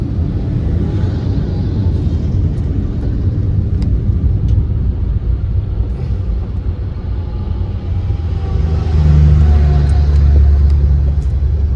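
A car drives along a forest road near Shahpur on the way to Ujjain, with steady engine and road rumble throughout that swells louder near the end as another vehicle overtakes and passes close by.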